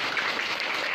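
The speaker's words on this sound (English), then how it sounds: "A round of applause for ourselves." A high school English class applauds itself after finishing an activity, a short burst of steady, fairly loud group clapping in a classroom.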